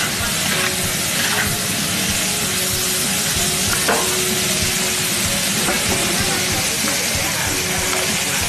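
Vegetables frying with egg and sour jujube in a hot pan: a loud, continuous sizzle with stirring scrapes and occasional clinks, and faint voices in the background.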